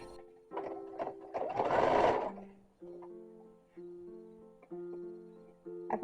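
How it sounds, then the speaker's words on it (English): A sewing machine stitching down part of a copied 1920s-1930s dress, with short, near whirring runs of stitching separated by brief stops, plus some handling noise early on. "And we're just going to stitch this down."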